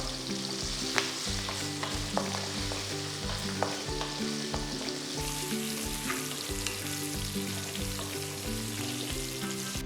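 Garlic, ginger and green chillies sauté in a pan, giving a steady close sizzle and crackle, with occasional stirring scrapes throughout.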